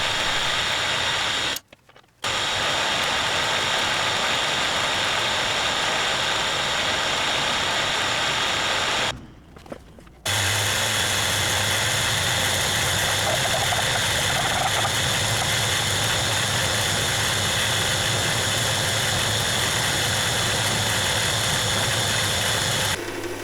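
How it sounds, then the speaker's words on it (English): A Hafco HM45 milling machine squares up the uneven end of steel with a 20mm end mill in an ER32 chuck, a loud, steady machine drone with two brief pauses before it settles into continuous cutting. "squaring up the uneven end in the Hafco HM45 milling machine using a 20mm end mill mounted in an ER32"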